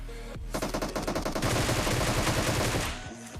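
Automatic gunfire in the mobile game PUBG Mobile, a rapid burst of rattling shots followed by a denser, louder stretch of overlapping fire before it cuts off.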